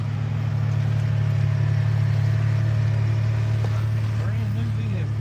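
Steady low hum of a car engine idling right after an oil change, constant and moderately loud close by, with faint background sounds and a voice briefly audible near the end.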